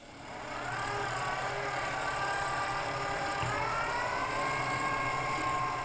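A gyroscope demonstration motor spins back up after a restart, its steady whirring hum rising in level over the first second and then holding a smooth, continuous tone close by, with no talking.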